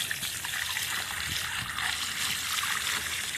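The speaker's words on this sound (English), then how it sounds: "And we're gonna start rinsing that meat." Running water rinses a sheepshead fish fillet, a steady hissing splash and trickle that holds at an even level throughout.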